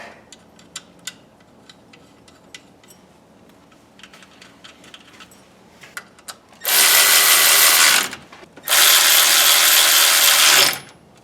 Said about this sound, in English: And tighten all these down to 30 foot-pounds.